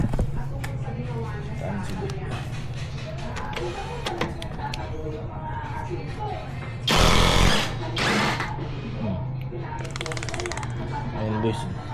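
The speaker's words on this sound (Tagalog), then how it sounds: "Titignan natin kung kaya niya yung air impact." A Tanzu 800 Nm air impact wrench removing the axle nut of a Yamaha Aerox scooter fires one loud, harsh hammering burst of about a second, then a shorter one, cutting through a busy workshop background of clatter and voices.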